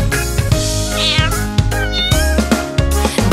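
Sung cat meows in a children's farm nursery rhyme, a melodic voice imitating a cat with repeated meow calls over bright backing music.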